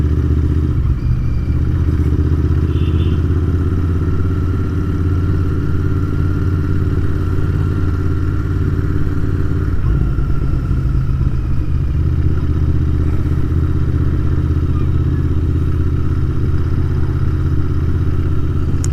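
A Royal Enfield Continental GT650 twin motorcycle rides toward the highway at speed, its steady engine drone and wind rumble continuous and loud throughout, with no talking.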